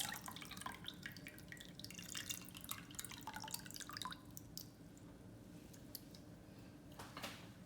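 Tamarind water, strained of its pips, poured into a pot of rasam, with close, steady dripping and trickling of liquid that thins out toward the end.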